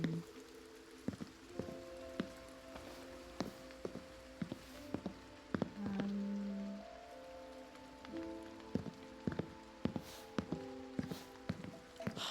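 Rain falls in the video game The Haunting of Joni Evers as a soft steady patter, broken by sharp regular thuds like footsteps, over low sustained tonal music.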